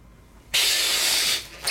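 A long twisty balloon is filled with air in one steady, loud hiss that lasts about a second, then cuts off, followed by a faint squeak.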